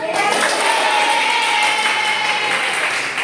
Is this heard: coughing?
no